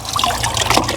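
Fresh water trickling and splashing as it is poured into a cooler aboard a brand-new boat; a brief, close, continuous burbling pour.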